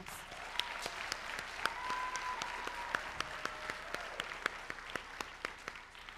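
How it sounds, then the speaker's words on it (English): Sustained applause from a crowd at a school board meeting, dense steady clapping with a few sharper individual claps standing out throughout. "can we all just give them a round of applause?"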